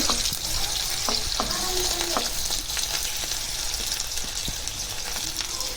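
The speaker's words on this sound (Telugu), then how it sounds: "ఓకే, నూనె కొద్దిగా వేడెక్కినాయి. ఇప్పుడు ఉల్లిపాయలు వేసుకున్నామండి." Sliced onions hit hot oil in a home kitchen pan for chicken egg fried rice, sending up a steady, close sizzle broken by occasional scraping and stirring clicks.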